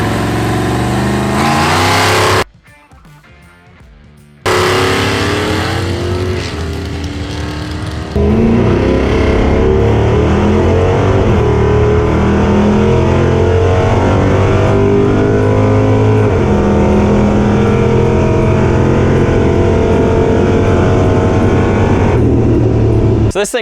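A Chevrolet C10 truck racing down a drag strip: a loud engine revs, drops out briefly, then roars hard and sustained under full acceleration for a long pull.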